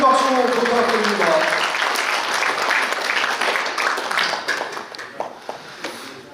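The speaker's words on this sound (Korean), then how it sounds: "이정희 장관님께 큰 박수 부탁드립니다" Crowd applause at a Korean veterans' association ceremony, a broad steady wash of clapping that thins into scattered claps toward the end, with a voice speaking briefly over the start.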